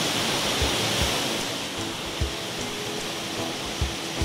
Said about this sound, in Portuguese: Cachoeira das Orquídeas.